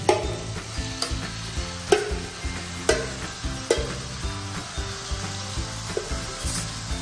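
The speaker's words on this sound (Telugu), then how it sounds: "చికెన్ కూడా వేసేద్దాం. మొత్తం వేసేయి." Chicken sizzling as it fries in a pan in a bachelor's room kitchen, with repeated scraping stir strokes over a steady hiss and no voices.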